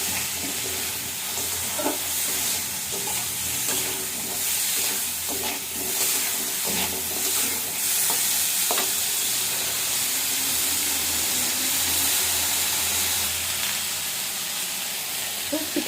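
Vegetables sauté in a pan with a little added water, giving a loud, constant hiss and sizzle with occasional faint knocks of a utensil.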